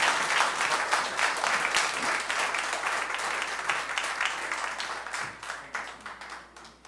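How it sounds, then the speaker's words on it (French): A church congregation applauds together, a dense patter of many hands clapping that stays steady for several seconds, then thins and fades toward the end. "Un beau applaudissement pour la plupart."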